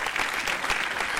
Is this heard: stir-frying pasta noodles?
no